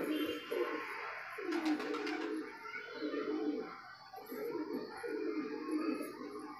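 Rain-soaked pigeons coo in repeated soft, low phrases close by, with a brief burst of higher chirping and faint background noise between calls.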